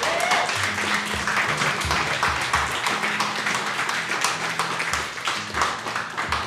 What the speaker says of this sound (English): So let's give him a big old hand clap.